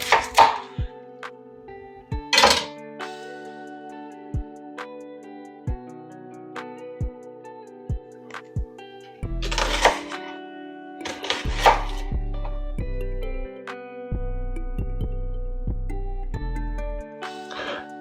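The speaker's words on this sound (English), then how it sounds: "first thing we're going to want to do is chop up a shallot" A knife chops a shallot on a cutting board, giving sharp isolated taps spaced irregularly, then denser bursts of quick close chops with hollow board knocks, no talking.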